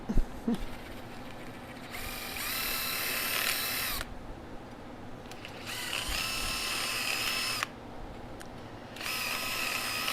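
A power drill runs in three bursts in a blacksmith shop, its high whining motor starting and stopping with short pauses between each run.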